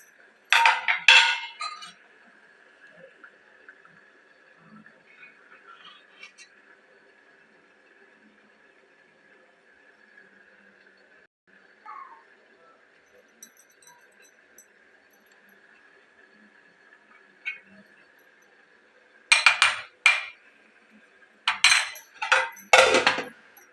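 A spoon clinks sharply against a bowl while turmeric and milk cream are beaten together, in short bursts at the start and end with a quiet stretch between and a faint steady hum underneath.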